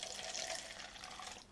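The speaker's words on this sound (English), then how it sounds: "Now we pour some of the liquid inside there." Liquid pours into a seed tray of freshly sown pepper seeds with a quiet, steady trickle, faint and close, with no talking.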